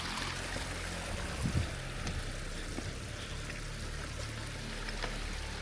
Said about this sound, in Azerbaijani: Şəlalənin suyu da buradan belə axır.